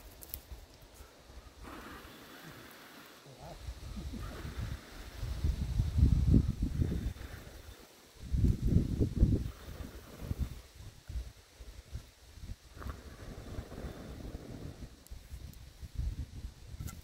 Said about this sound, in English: the wind's definitely not helping out our situation at all.